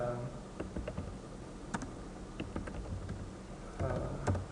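Computer keyboard typing while a title is entered into a Microsoft Forms quiz: irregular close clicks and taps in short bursts, fairly quiet, with no speech over them.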